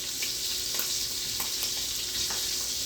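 Shrimp fry steadily in a pan for a chicken and shrimp carbonara, giving an even, close hiss with a few light crackles and soft stirring clicks throughout.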